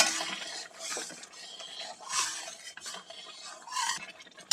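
Semolina halwa stirred in a pan with bay leaf and black cardamom, a spoon scraping through the thick mixture in repeated rasping strokes, each swell rising and fading at a moderate pace.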